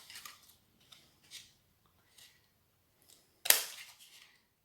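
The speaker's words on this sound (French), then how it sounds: "mais avant je vais couper mes coins là" Scissors snip the corners of paper for a colourful mini album, a series of short quiet cuts with pauses between them, ending in one louder, sharper snap.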